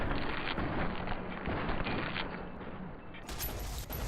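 Rapid gunfire in Fallout's Lonesome Road, Tale of Two Wastelands mod, aimed at a Marked Men scout: a dense, loud burst of shots sustained across the whole moment, briefly thinning before a sharp final crack.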